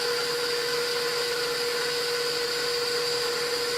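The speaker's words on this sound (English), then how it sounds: "So my mixer's really super loud." An electric kitchen mixer whirs loudly and steadily at close range while mixing low-carb pound cake batter, a constant motor hum with a high whine and no voices.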